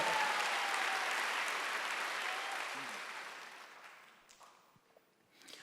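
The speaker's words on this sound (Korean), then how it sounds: "원하시면 박수 하세요" A church congregation at a Sunday worship service bursts into loud, dense applause that fills the room, then gradually fades over several seconds into scattered claps and quiet.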